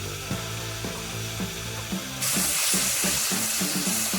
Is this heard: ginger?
yes